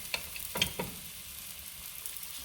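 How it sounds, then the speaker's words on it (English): Chicken pieces sizzle in a hot frying pan, a faint, steady hiss with a few soft pops near the start and no talking. "Not as big of a sizzle as I was hoping for, but it's okay. It's a sizzle."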